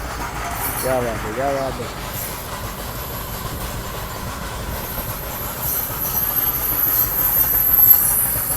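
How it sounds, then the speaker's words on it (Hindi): A Goa Express passenger train pulling out: a continuous rumbling roll with a brief wheel squeal that rises toward the end, heard from on board, with a voice speaking briefly early on. "ये देखो चल पड़ी हमारी ट्रेन, लाइन क्लियर हो गया है।"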